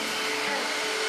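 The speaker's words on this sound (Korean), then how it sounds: "근데요 아까부터 어디서 청소기 소리가 나죠?" A vacuum cleaner runs somewhere in a home, a steady bright whirring roar that stays even throughout without talk.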